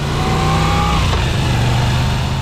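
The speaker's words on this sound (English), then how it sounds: "The transverse V-twin engine is full of character" A transverse V-twin motorcycle engine revs loudly and continuously nearby, its pitch rising and dipping in a throaty drone throughout.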